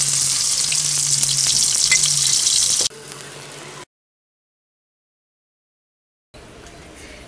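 Tofu stuffed with minced dace fish pan-fries with a loud, dense sizzle that drops off, goes silent for a few seconds, then returns more faintly.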